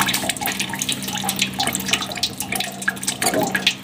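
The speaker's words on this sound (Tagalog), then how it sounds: "Tamang wisik-wisik lang, tamang hilamos lang." Tap water runs steadily into a sink and splashes as a face is washed, a close continuous stream broken by uneven splashes and drips.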